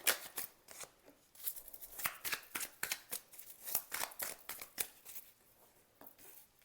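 Tarot cards being shuffled and drawn: a quiet, fairly close series of quick papery slaps and riffles, repeating in uneven bursts throughout with no voice over them.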